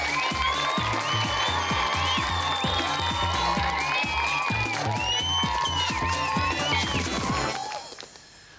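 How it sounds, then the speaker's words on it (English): Studio audience applauding and cheering on a television quiz show, loud and steady with whoops and shouts mixed in, dense clapping continuing before fading out near the end. "Give it a round of applause, everyone."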